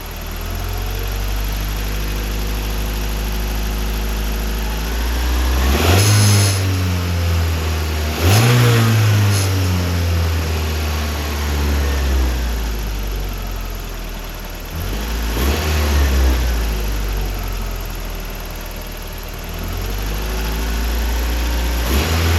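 Toyota rock crawler engine idling steadily, worked by a hand throttle, with several distinct revs that rise and fall back to idle, close and loud with no talking.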